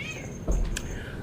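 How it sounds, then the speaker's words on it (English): A cat lets out a single short meow near the middle, close by and fairly clear over a quiet room background. "there goes the cat"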